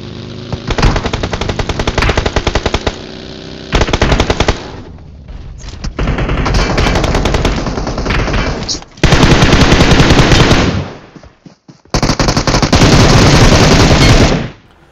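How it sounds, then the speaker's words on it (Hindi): Gunfire in the mobile video game BGMI comes in loud, close bursts of rapid automatic fire, separated by brief pauses. "इतने में एक बंदा चर्च की तरफ से फायर करता है"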